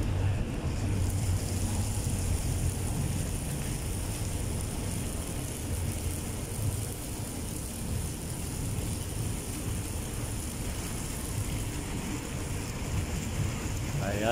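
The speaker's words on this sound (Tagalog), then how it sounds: "Yung hagdan may umaagos na tubig." Water flows down a staircase water feature at the seaside Mall of Asia on Manila Bay, a constant broad rushing wash mixed with wind buffeting, with faint voices in the background.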